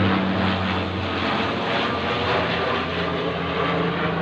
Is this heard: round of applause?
no